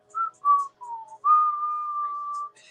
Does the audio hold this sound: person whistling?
yes